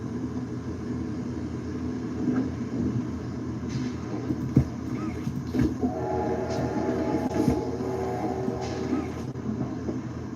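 Rumbling train noise from the Poppy Playtime video game plays continuously at a low level, a steady rolling drone broken by a few sharp clanks and a faint horn-like tone partway through.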